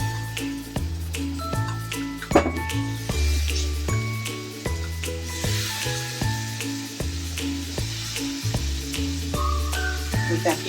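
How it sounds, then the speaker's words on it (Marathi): Drumstick pods tipped into a pan of frying green masala with coriander, a steady close sizzle with stirring clinks and scrapes, and a background tune playing throughout. "आता मी या स्टेजवर टाकणार आपले शेंग."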